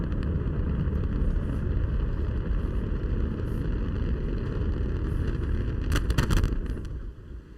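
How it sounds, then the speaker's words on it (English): Antares rocket carrying a Cygnus cargo craft on a resupply mission to the ISS lifts off, its engines producing a continuous, heavy broadband roar that stays loud throughout before easing slightly at the end. "And we have liftoff of Antares, the torque-free mission that brings Cygnus on its third CRS mission to the ISS."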